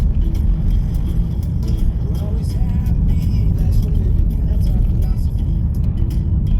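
A car drives along a rough rural road in the Russian backcountry, its steady engine drone and road rumble continuous and close throughout, with no break in the noise.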